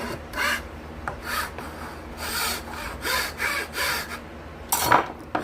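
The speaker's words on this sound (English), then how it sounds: "then I'll use a finer file just to smooth all that out." Steady back-and-forth rasping of a file cutting the wooden neck slot of a cigar box guitar, about a dozen close, rhythmic strokes with one sharper, louder stroke near the end.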